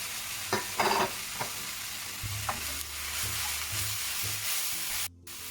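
Garlic, spring onions, bay leaf and carrots are stirred in a pan for chicken and mushroom pie filling. The spoon scrapes and knocks against the pan over a low sizzle, and no one speaks.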